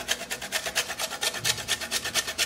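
A lemon rubbed against a grater to take off its yellow zest for a Christmas plum cake, a fast steady rasping of about a dozen close, even strokes with nothing else heard.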